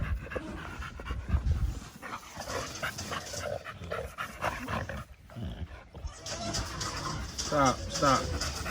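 An American Bully dog pants in quick, rough breaths close by, mixed with shuffling and handling noise, while people talk over it throughout.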